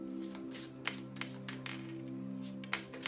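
Sharp metallic clinks and taps of cookware sound now and then over a steady humming drone, a few louder clatters standing out.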